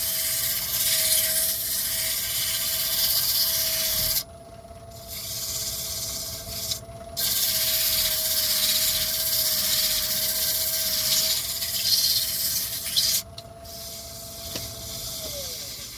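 A wood blank is sanded with 240 grit sandpaper, probably on a lathe, making a steady close hiss that is broken by two short pauses and a steady whining tone underneath.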